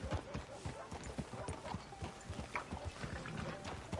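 Rapid clip-clop of horse hooves in Red Dead Redemption 2, a steady trotting rhythm close by and fairly quiet, with faint background sounds around it.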